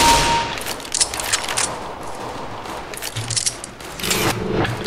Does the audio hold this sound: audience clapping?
no